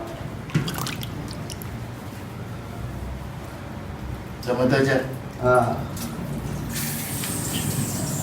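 Water poured from a scoop over a body during a funeral washing rite: soft drips and a couple of short splashing pours, close by, with quiet talk around them.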